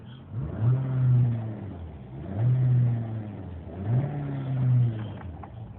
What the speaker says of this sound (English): Finally, the Nissan is running with an eBay computer.